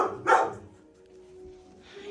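A dog gives a short bark near the start, close and fairly clear, followed by quieter room noise and faint movement.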